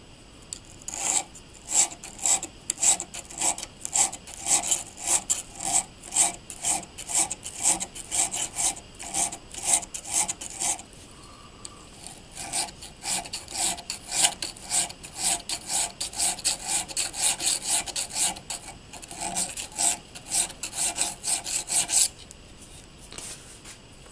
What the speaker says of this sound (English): A little bit of file work now.